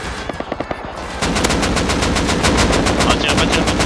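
Gunfire in the survival video game Rust: a few separate, spaced shots give way to loud, continuous rapid automatic fire that keeps going to the end.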